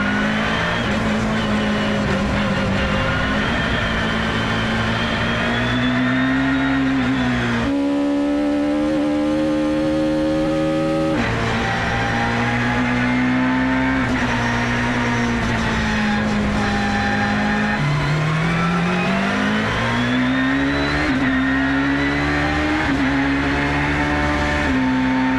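Peugeot 306 Maxi rally car driven hard by a lone driver with no co-driver, its engine loud and close, revs climbing and dropping through gear changes with a sharp shift in pitch partway through, steady throughout.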